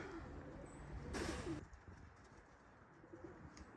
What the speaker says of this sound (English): That's a lot of birds that needs to trap.